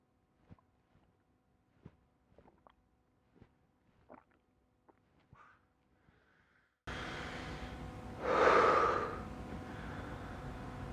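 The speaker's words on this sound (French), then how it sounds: "Inspiration profonde. Et expire." Deep breath during a morning abdominal breathing exercise: faint clicks, then a loud, close, rushing breath swells and fades over several seconds, with no talking.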